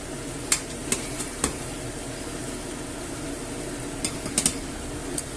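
Omelette mixture with onion being stirred in a frying pan over a soft continuous sizzle, punctuated by a few sharp utensil taps and scrapes against the pan, clustered early and again near the end.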